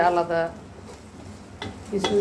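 Khichuri is stirred constantly in a pot over high heat, with scraping, clattering strokes and a soft sizzle, while a voice is briefly heard at the start and end.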